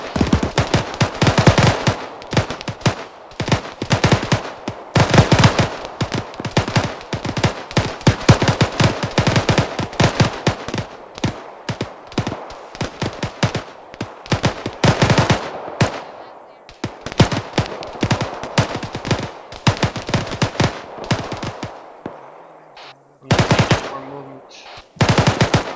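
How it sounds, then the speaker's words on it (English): Sustained automatic machine gun fire in the military shooter Arma 3, a loud continuous stream of rapid bursts with brief gaps, running almost without pause for over twenty seconds. "Remember to keep that sustained rate of fire."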